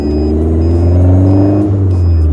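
A 2022 Caterham Super Seven 1600 with a Mazda MX-5 gearbox accelerates from close by, its engine a steady loud drone that swells and rises in pitch, with a brief dip as it builds revs.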